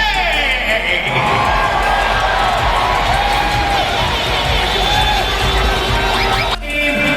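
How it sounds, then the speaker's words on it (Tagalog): A basketball arena crowd cheers loudly for Team Chinese Taipei at a game against Gilas Pilipinas, a dense, steady roar of shouts and whoops throughout that drops off sharply near the end. "let's hear the crowd for Team Chinese Taipei!"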